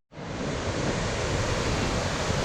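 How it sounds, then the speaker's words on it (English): White water rushing in a river near Moel Siabod, a steady broadband hiss of churning water that starts abruptly and holds at an even level throughout. "Bit of white water there."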